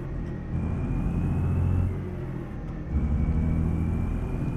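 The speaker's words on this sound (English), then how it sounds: "the truck today is running a Cat engine" Caterpillar C15 diesel engine of a Freightliner FLC truck in American Truck Simulator, a steady low rumbling drone with slight swells in load, heard alone and fairly loud.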